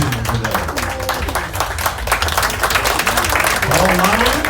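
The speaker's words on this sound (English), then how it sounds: "Please give a big round of applause to our gentlemen who are on the panel today." An audience at a panel session on a cruise breaks into applause, a dense burst of clapping that carries on steadily for several seconds.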